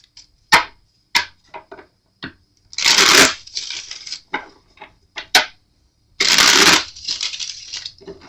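Tarot cards are riffled and bridged in two long bursts, surrounded by sharp taps and snaps of cards being handled and set down close by.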